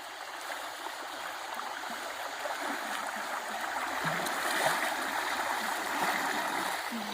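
Shallow river stream in a forest, swollen after heavy rain, flowing during a crossing: a steady rushing and gurgling wash of water, close and continuous, with no voices.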